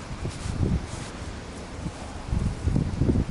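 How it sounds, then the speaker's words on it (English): A strong 30-mile-an-hour southeast wind outdoors rumbling and buffeting the microphone in low gusts, with a faint rustle over it, steady and swelling toward the end, no voices. "We got a 30-mile-an-hour southeast wind."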